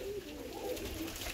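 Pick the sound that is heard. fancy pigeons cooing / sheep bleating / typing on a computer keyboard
fancy pigeons cooing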